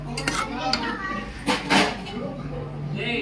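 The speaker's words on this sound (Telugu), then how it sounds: "మటన్ కూడా పెట్టేస్తున్నాను ఫ్రెండ్స్. నూనె వేసాను, ఉల్లిపాయలు, చెక్క, లవంగా, బిర్యానీ ఆకు వేసాను." Pots and utensils clatter as mutton goes into a pot of oil with onions, cinnamon, cloves and bay leaf during festive Ramzan cooking, with busy metallic clinks and scrapes throughout, children's voices in the background.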